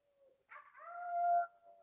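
A person imitates a coyote howl with a single rising, sustained vocal wail that swells and then cuts off, clear and close against near silence.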